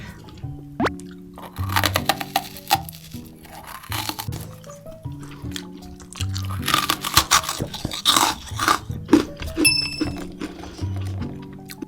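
A planet-shaped Earth gummy jelly is bitten and chewed up close, giving crunchy snaps and wet squishy plops in irregular bursts over several seconds.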